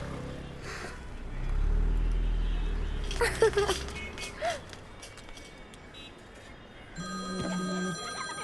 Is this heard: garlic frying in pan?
no